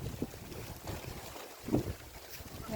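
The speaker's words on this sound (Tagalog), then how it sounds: "Grabe ang lakas ng hangin." Strong wind gusts across open rice fields, buffeting the microphone with low, rumbling, uneven blasts that swell and fade for a few seconds.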